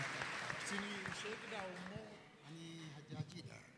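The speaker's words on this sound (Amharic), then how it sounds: "እንኳን ደህና መጣው ብላችሁ አጨብጭቡላቸው" Applause from a crowd at a religious gathering welcoming Haji Mohammed, a steady wash of clapping running under a voice speaking throughout.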